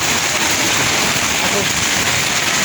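Steady rain falls, a dense, even hiss of drops on surfaces that stays constant throughout, close and moderately loud with no breaks.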